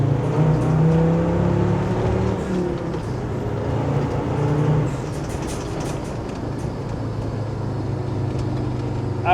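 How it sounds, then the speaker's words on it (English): A Land Rover Defender Td5 with a tuned 320 hp engine accelerates hard with its wheels spinning, giving a loud, steady drone that eases slightly partway through, with rough tire and road noise beneath. "I was spinning the wheels in third at about 40 mile an hour."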